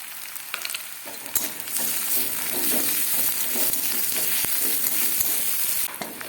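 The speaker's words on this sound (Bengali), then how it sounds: "এরপরে দিয়ে দেবো পেঁয়াজ কুচি। এরপরে দিয়ে দেবো রসুন বাটা" Chopped onion and garlic paste sizzle steadily in a pan with cumin seeds for a Bengali fish curry, a loud continuous hiss with occasional stirring clicks and no voices.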